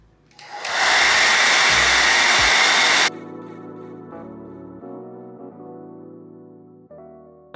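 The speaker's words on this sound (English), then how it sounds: "You take the blow dryer and you're gonna stuff it in her mouth." A blow dryer set to high cool, pushed into the mouth of a mannequin head to dry a wig, switches on with a loud, steady roar for about two seconds and then cuts off. Quieter background music follows.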